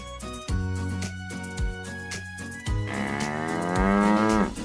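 Cattle on a farm lowing in long, loud, deep moos, with a few drawn-out calls overlapping one after another, close and alone without talk.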